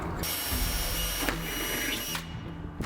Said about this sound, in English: So that center hole, the center divot, we're going to drill that out.